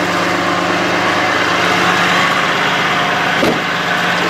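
2009 Sterling Bullet 4x4 bucket truck with an Altec AT37-G boom, engine idling steadily with the PTO engaged, a constant loud drone with a brief clunk near the end and no talk.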